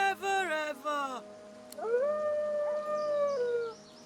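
A dog howls in the fantasy role-playing game Divinity: Original Sin 2, a long wavering cry that follows a few shorter whining yelps, loud and close, with game audio around it.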